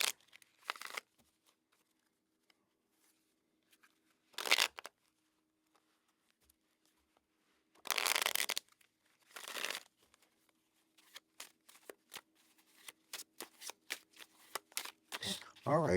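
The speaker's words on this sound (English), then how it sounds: "All right, pretty good shuffle here." A deck of tarot cards is shuffled close by in several separate riffling bursts, each a brisk papery flutter, with quiet handling and soft taps between them and no voices.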